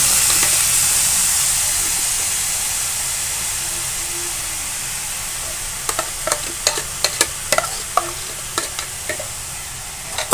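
Orange cooking for jam in a kadai over medium gas flame, a continuous hissing sizzle with a series of sharp scraping stirs in the second half.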